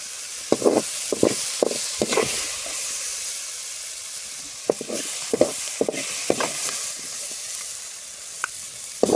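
Brinjal fries in oil in a pan with a steady hissing sizzle, close and moderately loud, broken by irregular clacks and scrapes of stirring, with no voices.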